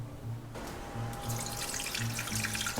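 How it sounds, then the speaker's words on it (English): Water pours from a tap into a blender holding a thick blended cashew paste, a steady splashing stream that begins abruptly after a brief quiet moment and runs on with a low motor hum beneath. "Then you can start adding some of the water."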